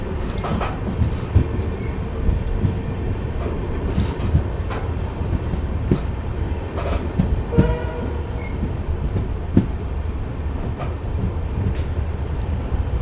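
The Amritsar–Bikaner Superfast Express slows down, heard from on board as a loud, continuous rumble with rhythmic wheel clatter and scattered metallic clanks, and a short horn-like tone partway through.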